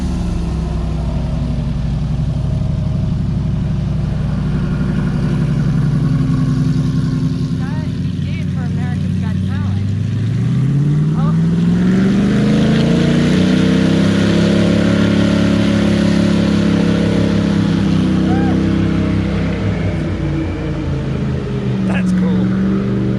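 A tour airboat engine with open exhaust roars loud and steady throughout, with a deep rising pitch swell midway as it revs up; people talk over it now and then.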